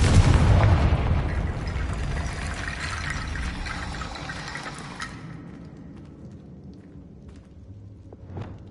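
A heavy booming blast from the Confringo fire spell in Hogwarts Legacy hits loud at the start, then rolls off into a long rumbling, crackling decay with a small thump near the end.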